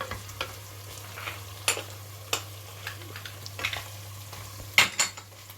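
Veg keema cooks in oil in a pan with a quiet, steady sizzle, broken by a few sharp clinks and scrapes of a utensil against the pan, with no voices.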